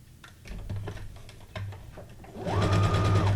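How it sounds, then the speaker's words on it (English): A domestic sewing machine running a straight stitch with neutral thread while making junk journal paperclips, heard as short stop-start bursts of clattering stitching, then a longer, louder steady run near the end. "I'm gonna go back to a straight stitch on this one."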